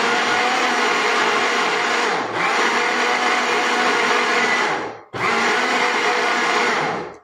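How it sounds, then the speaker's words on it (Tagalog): A blender whirs loudly and steadily as it mixes homemade condensed milk with sugar, running continuously with two brief dips where the motor pauses. "Kailangan pa siya i-blend kasi nandiyan pa yung sugar."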